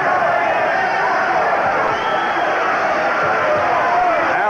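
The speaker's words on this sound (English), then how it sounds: "The crowd responding to the finish." A boxing arena crowd roars and cheers steadily near the close of a professional bout, a dense, sustained wash of voices at high level with no pauses.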